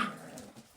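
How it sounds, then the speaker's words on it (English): American bully puppies at play give a brief, faint yip or whimper at the start, followed by quiet rustling nearby. "Playtime for the puppies."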